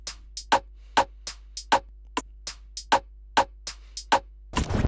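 An FL Studio drum loop of layered snares, clap and hi-hat plays alone in a steady, crisp pattern, sharp repeated hits with ticking hats between them and a brief burst at the end.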